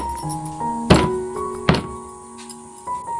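Jackfruit seeds are crushed with a stone in a kitchen, giving a few dull, close thuds spaced irregularly over a few seconds. Soft background tones sit between the impacts.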